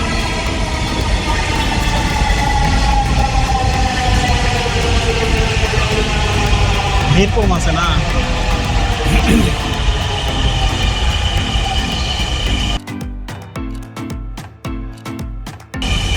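A Dhaka metro rail train pulls into the station with a steady loud rumble and rising mechanical whine, ending in sharper rhythmic clatter as it slows; a voice speaks briefly.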